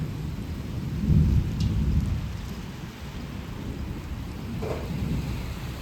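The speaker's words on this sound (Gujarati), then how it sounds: "અત્યારે જો બારે વરસાદ આવે છે દેખાય અને વીજળી થાય છે" Steady unseasonal rain pours down with low rumbling thunder rolling through, a dull roar throughout and no voices.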